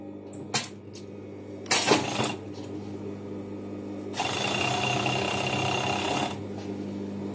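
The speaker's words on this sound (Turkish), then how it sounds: "Dört iplik ovarlığınız varsa bu şekilde dikebilirsiniz arkadaşlar." A four-thread overlock sewing machine stitches jersey fabric in a steady two-second whirring run, preceded by short clicks and bursts of handling noise.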